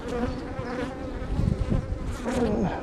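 A dense swarm of honeybees hums around an open hive, a steady close buzzing with individual bees droning louder as they pass near, continuous throughout with no voices.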